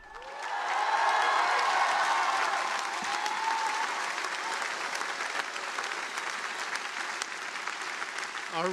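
Audience applause at a graduation ceremony for the class of 2025, a sustained wash of clapping that swells quickly and holds steady for several seconds, with faint crowd noise mixed in.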